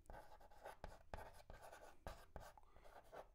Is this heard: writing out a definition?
yes